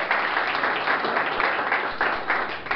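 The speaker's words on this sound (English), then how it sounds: "An applause for you." Audience applause at a graduation ceremony for English-language students, a steady wash of many hands clapping that holds at moderate volume throughout.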